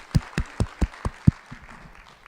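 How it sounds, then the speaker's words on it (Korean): Congregation at a church service giving thanks with a few sharp, evenly spaced claps, about six distinct near hand claps before quickly trailing off into a soft background. "우리 주님께 감사의 박수"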